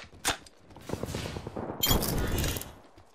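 Gunfire in Apex Legends, a sharp shot followed by a sustained burst of rapid fire and heavier clattering volleys, close and loud with no talking.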